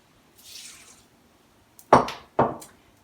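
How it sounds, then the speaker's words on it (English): White wine poured into a Thermomix bowl, a soft airy splash followed by two short, louder gurgling pours close by, no talking. "So next, 2 ounces of white wine."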